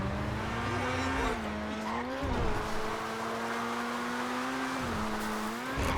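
A car in Grand Theft Auto V drives with a steady, droning engine note that rises and dips, tyres briefly skidding, continuous and fairly loud throughout with no talking.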